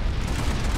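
Grenade explosion in the video game PlanetSide 2, a brief loud booming blast with rumbling low end that fills the whole moment.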